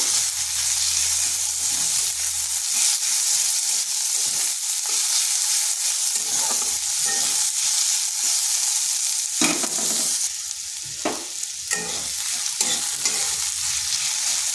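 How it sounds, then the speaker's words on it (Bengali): Chopped onion sizzles and fries in a hot pan for a Bengali flat bean dish, a steady high crackle with intermittent stirring and scraping clatters, close and continuous with no talking. "পেঁয়াজটাকে একটু ভেজে নেব"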